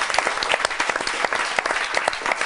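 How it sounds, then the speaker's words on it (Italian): A studio audience at a televised football talk show bursts into loud, close, rapid applause, a dense crackle of many hands clapping throughout. "Applauso ragazzi."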